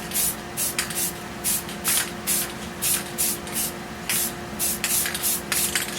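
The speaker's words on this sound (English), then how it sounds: "I have a little bit of satin, and I'm going to give it just a misting" Satin spray paint mists onto a foam pumpkin in short, repeated hissing bursts, roughly a dozen quick sprays in an uneven rhythm, close and fairly loud over a low background hum.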